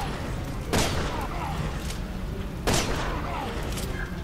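Two bursts of gunfire in Resident Evil 6 ring out about two seconds apart over a steady bed of game noise and ambience.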